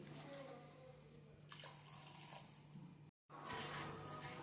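Water poured from a measuring cup into rice in a pot for Bengali basanti pulao, a steady splashing trickle with a brief pause before the pouring resumes louder near the end.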